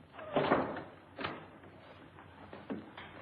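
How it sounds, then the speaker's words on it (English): An indoor door in a 1942 classic film is shut with a dull thud, followed by softer clunks and a rattle as it is locked, close and fairly quiet. "Lock the door again."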